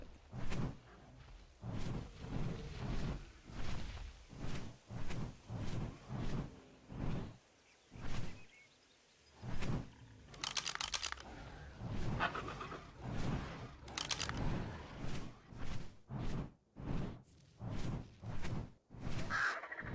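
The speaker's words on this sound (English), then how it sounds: "Okay, so terror birds are fighting with something," Repeated harsh cawing calls of terror birds fighting in the video game Ark: Scorched Earth, quick bursts with whooshing movement between them, fairly loud and continuous, no speech.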